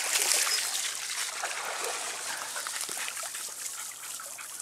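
Dogs swimming and splashing in water outdoors, a continuous wash of trickling, paddling splashes at close range, with no speech over it.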